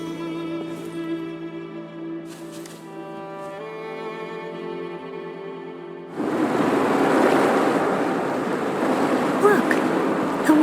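Water rushes and surges as it recedes in Wuthering Waves. Quiet tonal game music plays first, then a loud, steady broadband wash of water abruptly takes over for the final several seconds.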